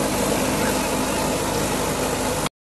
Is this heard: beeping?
no